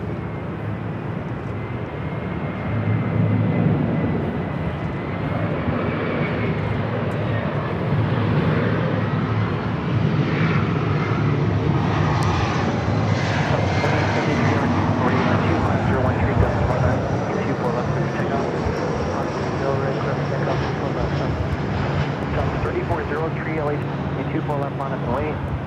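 A large airliner passes at Los Angeles LAX airport, its engine roar swelling and holding loud for most of the stretch before easing slightly, with people talking faintly underneath.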